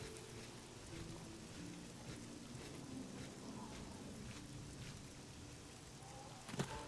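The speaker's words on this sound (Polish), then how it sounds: "No i taka deszczowa pogoda," Steady rain falling in The Elder Scrolls IV: Oblivion, a continuous soft hiss of drops with a faint low hum beneath and a short sharp click near the end.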